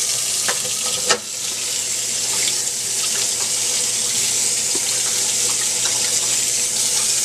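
Tap water pours steadily over a CD held beneath it in a sink, a close, continuous splashing hiss with one brief knock near the start.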